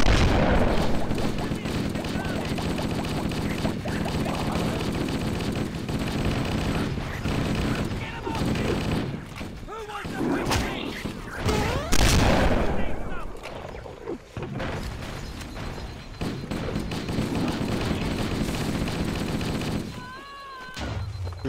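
Gunfire rattles through a Legendary-difficulty playthrough of the Cursed Halo video game, with dense bursts and booms over a busy, layered game mix and occasional voices.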